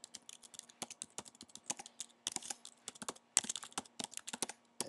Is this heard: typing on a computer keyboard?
yes